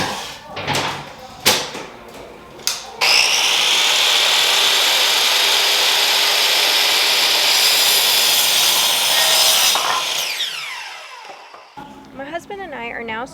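A power saw rips through a board during a laundry room floating bench build, a loud steady cut of about seven seconds that winds down, preceded by a few knocks and followed by faint handling noise.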